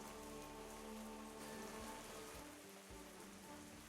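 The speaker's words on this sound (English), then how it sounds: "You guys can hear it with the music, but it is raining out here in this jungle city." Steady rain patters densely on surfaces in a jungle city, a continuous close hiss of drops with music faintly mixed in and no talking.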